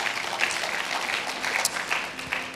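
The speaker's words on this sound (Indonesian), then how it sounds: "Beri tepuk tangan buat Tuhan Yesus." Church congregation clapping during a worship service, a moderate patter of hands with small bursts and accents, fairly close, lasting under three seconds with no voices over it.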